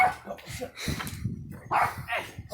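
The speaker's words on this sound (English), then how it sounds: "You hear that dog cheering him on?" A dog barks and yips in short, close bursts mixed with voices, the calls rising louder toward the end.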